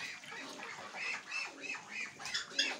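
A rooster squawking in a rural setting, a quick series of harsh nasal squawks, fairly faint and alone.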